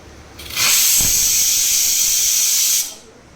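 A pressure cooker cooking drumstick sabzi lets out one loud, sustained hiss of escaping steam, lasting a couple of seconds before cutting off abruptly.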